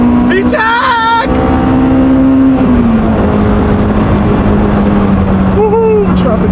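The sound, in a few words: Honda S2000 engine revving into VTEC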